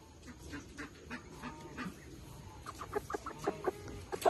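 Hungry young chicks peep in quick, scattered chirps close by, soft at first and growing busier and louder toward the end, with no talking.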